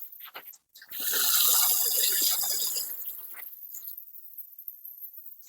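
Water is poured onto an Aglaonema plant in its pot, a hissing splash for about two seconds that then thins into softer trickling and dripping, with no talk.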